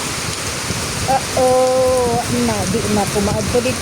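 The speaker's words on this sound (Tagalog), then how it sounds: "Wala na, arang kusugan na gyud sa ulan." Heavy rain driven by strong wind pours down in a loud, steady wash, while someone speaks over it in the middle.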